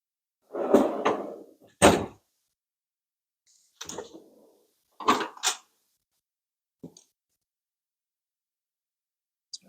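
Several Snap-on tool box drawers sliding open and shut in a backyard mechanic's setup, a series of close metallic rolls and bangs in irregular bursts separated by silence, ending with a few faint clicks.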